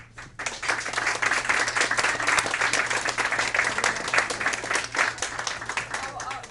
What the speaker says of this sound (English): To our primary teachers, a round of applause will do.